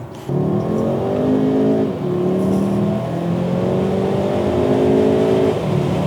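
A used car pulls away on a test drive with a steady engine drone that rises in pitch through the gears, loud and close from inside the cabin, with no one talking over it.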